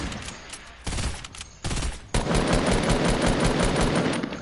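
Rapid gunfire from a hunter rifle in the Fortnite video game, a few separated bursts of shots early on, then a loud, dense stretch of continuous firing and clatter without a break.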